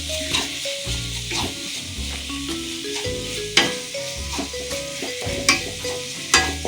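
Tomatoes sauté in a pan for gobi manchurian, a steady sizzle with repeated scraping stirs of a utensil and occasional sharper knocks against the pan, close up, without speech.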